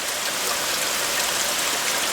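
Steady rain falls in a backyard where a great blue heron stands, a dense, even hiss of drops that stays loud and unbroken throughout.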